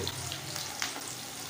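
Onions frying in hot oil, a brief steady hiss of sizzling close up, faint and even, with one small pop.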